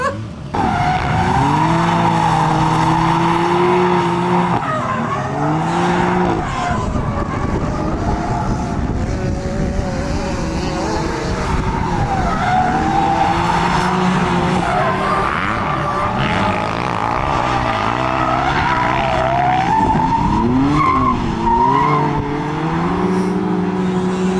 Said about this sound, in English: But then look at Ben ripping his M3